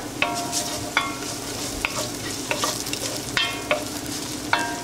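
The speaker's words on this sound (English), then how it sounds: "I'm going to give that a little stir" Steady sizzle of onions, mustard seeds and cumin seeds frying in a pan, punctuated by several sharp scraping clinks of a utensil stirring through it.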